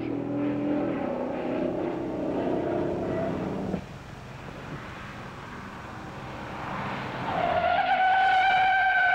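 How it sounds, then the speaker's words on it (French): A 1969 Dodge Charger Daytona with a Hemi engine skids during a braking test from 60 mph: engine and tire noise, then a rising sustained squeal of rubber near the end, loud and close. "la Charger Daytona a mis 149 pieds à s'arrêter lors de notre test de freinage"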